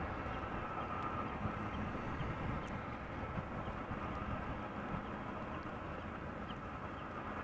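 Broadband jet engine rumble of an Airbus A340 taxiing at Amsterdam Schiphol Airport, a steady, fairly distant roar holding at an even level throughout with no voices.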